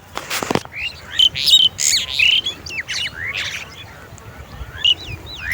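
Birds chirping and tweeting in an outdoor spot with a heron, short bright calls scattered across the clip between brief rustling bursts, fairly close and clear.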